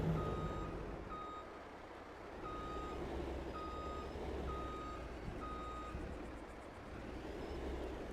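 Truck reversing beeps from Farming Simulator 22 repeat at an even pace over a constant low engine rumble and hum, with no talking.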